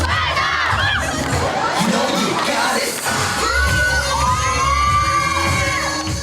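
A crowd of schoolchildren cheers, whoops and shouts loudly at a school dance performance, a dense, sustained roar of young voices filling the room.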